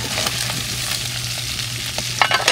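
Adobong kangkong ingredients frying in a pan, a steady close sizzle with a low hum beneath and a few sharper crackles and stirring scrapes toward the end.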